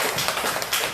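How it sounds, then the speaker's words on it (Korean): Brief burst of congregation clapping at a Sunday afternoon church gathering, thanking those who prepared the food, a dense patter of many hands lasting about a second. "우리가 박수 한번 쳐드립시다"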